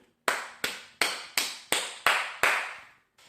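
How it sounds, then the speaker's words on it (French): Seven sharp, evenly spaced hand claps in a slow steady rhythm, each ringing briefly into a small room, close and alone, in tribute to footballer Arjen Robben. "Donc 1 minute d'applaudissement pour Arjen Robben."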